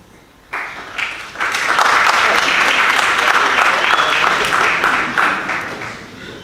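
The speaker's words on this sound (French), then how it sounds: "Voire même applaudir si vraiment c'est drôle." Audience applause at a conference talk on education, starting abruptly, swelling into a full, dense clapping crowd that holds steady for several seconds before tapering slightly, with faint voices mixed in.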